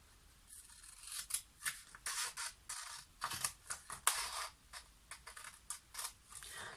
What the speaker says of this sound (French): vous prenez votre paire de ciseaux, puis vous allez couper tout le long de cette ligne